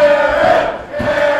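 A wrestling crowd at an IZW Adrenaline event roars its support for Aaron Neal in a brief, loud, dense swell of cheering and shouting.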